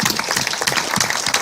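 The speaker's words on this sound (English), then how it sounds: "Big hand of applause." A seminar audience at the Digital Nationz Expo 2013 gives a quick round of applause, a brief burst of crowded clapping at steady volume.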